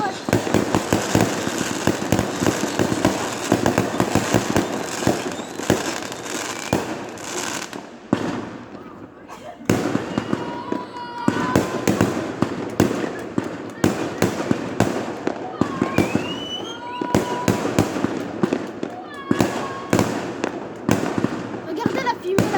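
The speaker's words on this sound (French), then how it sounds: "C'est le plus beau feu d'artifice sur YouTube." Fireworks exploding on 10 August 2020, a continuous barrage of loud bangs and crackles with whistling rockets, heard with people talking throughout.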